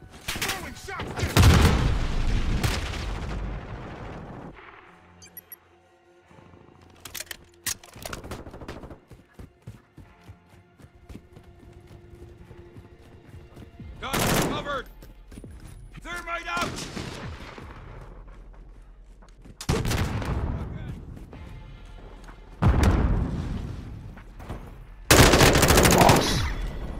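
Gunfire in Call of Duty: Modern Warfare 2 comes in loud, repeated bursts of rapid automatic shots and heavy booms, separated by quieter stretches of lighter firing.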